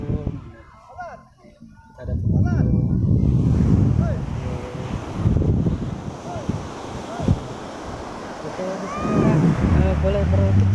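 Surf breaks and rushes at Pasaman Barat beach with wind buffeting the microphone, a loud continuous roar after a quieter opening, while a person talks over it.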